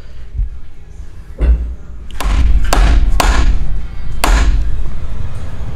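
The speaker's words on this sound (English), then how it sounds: "So I'm gonna get a big fat screwdriver and try to drive it in here to hopefully pry" A big screwdriver hammered into a Keihin PWK carburetor to pry a part open, with five or six heavy close thuds and sharp knocks over a low rumble.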